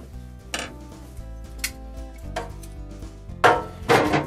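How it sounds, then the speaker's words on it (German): Pork cheeks go back into a Dutch oven full of stock at a barbecue, a few separate metallic clinks and scrapes of utensils against the pot, the last two louder and closer, over a constant low hum. "Und jetzt kommen unsere ganzen Bäckchen wieder mit herein."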